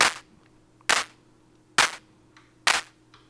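Four sharp, snappy synthesized claps from a Moog DFAM drum machine land at a steady pace about a second apart. Each hit is slightly different in tone, crisp and close against a quiet background.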